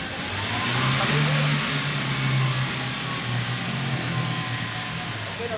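A car engine revs up in steady steps from idle toward about 4000 RPM during an inspection check, a loud, continuous mid-pitched drone that rises and falls with no talk over it.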